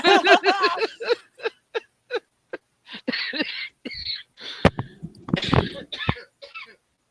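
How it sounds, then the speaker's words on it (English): Several harsh coughs and throat-clearing bursts, loud and close, with short bits of talk between them. "you and me both coughing right now"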